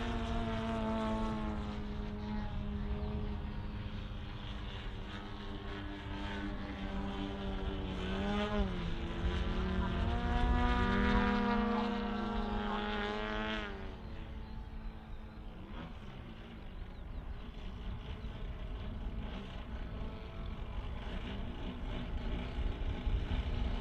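A model airplane powered by a DLE 120 petrol engine flies at an airshow, its propeller engine droning loudly and swelling and sagging in pitch as it maneuvers, then easing off as it moves farther away.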